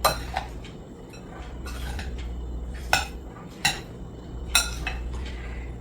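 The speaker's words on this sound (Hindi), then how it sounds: "इसको एक दफा और स्टर कर लेंगे, मिक्स कर लेंगे।" A spoon stirs and mixes a creamy pasta salad in a bowl, with a handful of close, bright clinks against the dish over a low background hum.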